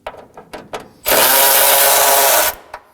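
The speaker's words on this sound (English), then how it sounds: "Now we're gonna be removing the other 10mm bolt that's right above the battery" A power tool loosens a 10mm bolt on the radiator beam of a 2014-2020 Acura MDX, a loud steady whir lasting about a second and a half, with brief clicks and taps before and after.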